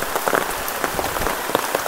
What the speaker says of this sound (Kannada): ಮಳೆ ಸ್ಟಾರ್ಟ್ ಆಯ್ತು ಮಳೆಯಲ್ಲಿ